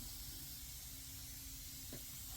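An aerosol spray can near the end of its contents gives a steady, loud hiss of spray lasting a couple of seconds, with a brief sputtering burst near the end and no talking.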